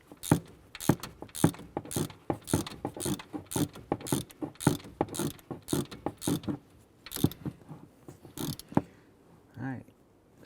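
A hand ratchet snugs a bolt on a 2011-2018 Ram 1500 during MDS solenoid work. It gives a long run of quick, evenly spaced clicks, close and moderately loud, that stops near the end of the stroke.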